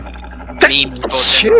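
A single sharp human sneeze bursts out close to the microphone, with a short spoken exclamation just before it.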